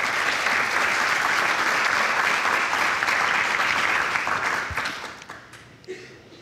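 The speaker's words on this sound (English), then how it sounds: "Please give them a grand round of applause." Audience applause at a business panel on crisis management, dense and sustained clapping from a large crowd that holds steady before tapering off near the end.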